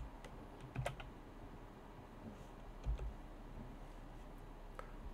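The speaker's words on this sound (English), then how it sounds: "And then we will just type Powershell." Keyboard typing on a Windows 11 computer as a search term is entered: a short, quiet run of soft key clicks with a couple of slightly louder taps, close and alone.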